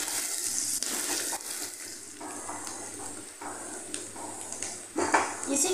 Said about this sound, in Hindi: ये 1 बड़े साइज प्याज है जिसको हमने महीन महीन चॉप किया हुआ है। फ्राई कर लेते हैं गोल्डन होने तक।